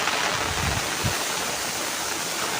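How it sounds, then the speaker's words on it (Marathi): A small waterfall at the Sateri Mahadev temple near Kolhapur gives a steady, even rush of falling water, with a couple of soft low thumps early on and no talking. "तुम्ही बघू शकता एक छोटासा धबधबा आहे मस्त इथं"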